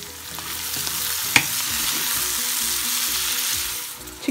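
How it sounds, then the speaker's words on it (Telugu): Onion and flat beans fry in a pan, giving a steady close sizzle with faint stirring scrapes and a single sharp clink partway through. "ఇప్పుడు ఆనియన్ ఇలా ట్రాన్స్పరెంట్గా వేగిన తర్వాత మనము చిక్కుడుకాయలు వేసేసుకున్నాము."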